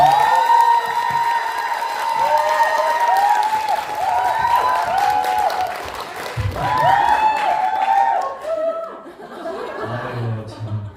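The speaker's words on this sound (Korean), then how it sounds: "엄태호 대표님을 여러분의 큰 박수와 함께 모셔보도록 하겠습니다" An audience claps and cheers to welcome a company CEO onto the stage at a corporate event, applause rolling steadily with chuckles and laughter mixed in, while live music plays underneath.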